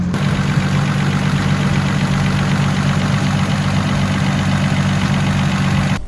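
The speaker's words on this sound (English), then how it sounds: "The car makes really funny sounds" Toyota Supra engine idling with an oil leak and odd running noises, a steady, loud, close low rumble that holds evenly for the whole stretch, with no talking over it.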